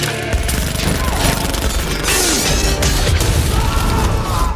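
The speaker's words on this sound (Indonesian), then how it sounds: "Uncle Hutch dengan mudah mengimbangi mereka semua dan meledakkan para gangster tersebut dengan sebuah tabung gas" Chaotic action-movie violence as a gas canister explodes among gangsters, a dense loud barrage of crashing booms, smashing debris and gunfire-like bursts packed tightly together across the whole stretch.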